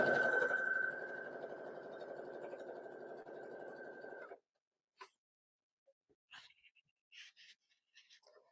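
Sewing machine stitching quilt pieces, a steady mechanical whir running for about four seconds that then stops abruptly, followed by quiet with a few faint clicks and small handling sounds.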